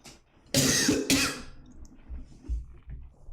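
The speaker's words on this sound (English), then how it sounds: "As you can tell, I still have a cough." A person with a lingering cough lets out two harsh, close coughs in quick succession, followed by quieter throaty breathing and faint low sounds.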